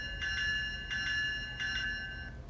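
A ScaleTrains Union Pacific GEVo model locomotive's sound decoder rings its bell in three evenly spaced clangs, moderately quiet over a low electronic hum.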